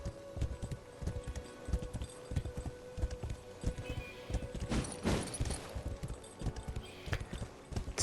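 Horse hooves clip-clop steadily at a riding pace in the video game Wayfinder, close and rhythmic over a light ambient game background, with a brief louder burst of sound midway.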